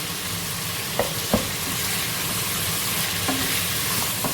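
Mutton frying in a pot with garlic being added, a steady loud sizzle throughout with a couple of sharp stirring knocks near the start and a brief clatter later, no voices.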